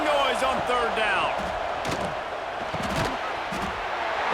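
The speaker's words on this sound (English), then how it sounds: "This dog crowd is off the leash, and they are coming after them, bringing noise on third down." Stadium crowd noise from a college football video game, Georgia against Kentucky, a loud continuous roar with bursts of cheering and a commentator speaking over it.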